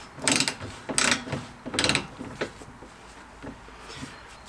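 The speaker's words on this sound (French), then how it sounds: "Et la partie supérieure, elle va se serrer à 70 Nm, les amis." A ratchet wrench tightens the upper nut of a Peugeot 206 rear shock absorber to 70 Nm, giving three close bursts of rapid clicking followed by a few fainter, sparser clicks.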